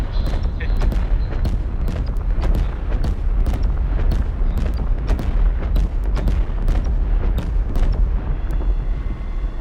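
Dense, continuous rumbling blasts with rapid sharp cracks repeating throughout, loud and steady like a string of explosions, from Mole ship mining in the game Star Citizen.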